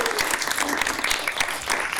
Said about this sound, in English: Let's give a round of applause to the APAICS team